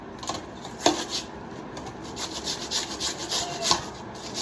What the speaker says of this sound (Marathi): गूळ किसून घेते